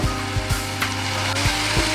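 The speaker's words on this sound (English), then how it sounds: "I will add this ginger, garlic, dhania and zira, coriander, cumin paste over here." Ginger, garlic, coriander and cumin paste sizzling in a hot pan, a continuous close hiss with a few soft scraping knocks spaced through it, no talking.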